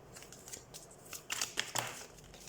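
Tarot cards shuffled and drawn by hand, a few soft crisp slides and flicks of cardstock close by, brief and fairly quiet, with no talking.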